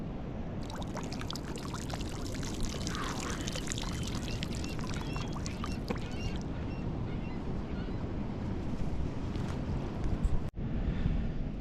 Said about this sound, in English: You can already hear a change in the wind.